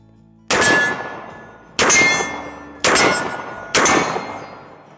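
Four heavy booming shots from a Mossberg 940 Pro Tactical semi-automatic shotgun firing slugs at steel 35 yards away, each blast followed by a long ringing decay, spaced about a second apart outdoors.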